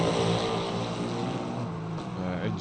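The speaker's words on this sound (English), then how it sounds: "Engines are a little bit loud there" Race car engines in a Le Mans Ultimate sim-racing session at Paul Ricard drone steadily and loudly with layered harmonic whine, filling the short stretch without pause.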